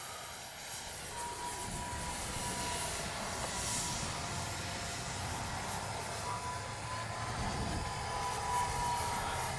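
A small jet-powered model F-15 with a 40mm ducted fan whines steadily overhead at middling distance, its engine drone holding level for the whole stretch with no talking.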